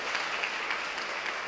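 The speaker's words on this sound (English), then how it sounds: "can we give them a round of applause" A community forum audience applauds, a dense, steady wash of many hands clapping that fills the whole short moment without a break.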